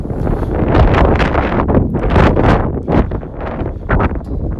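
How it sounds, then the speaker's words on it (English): Strong wind roars across a mountain summit above Edinburgh, buffeting the microphone in loud, continuous gusts that surge and dip throughout. "It's very windy up here, I'm so sorry about your ears"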